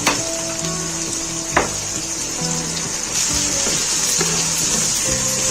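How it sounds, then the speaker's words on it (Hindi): Onion, garlic and ginger fry over medium flame for keema aloo matar, a continuous sizzle with occasional utensil knocks and stirring, close and fairly loud, with no talking. "प्याज के साथ हम लहसुन अदरक को अच्छे से फ्राई कर लेंगे।"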